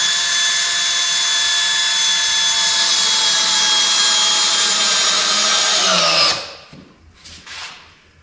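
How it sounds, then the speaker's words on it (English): A power drill drives screws into a wooden anvil stand, whining steadily and loudly at close range for about six seconds before spinning down, followed by faint handling noises. "Now we're just going to drive some screws in it and hold it fast."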